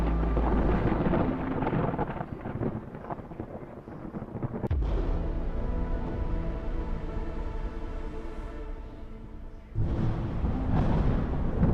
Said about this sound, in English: So our poor tutorial settlements have been ravaged by the storm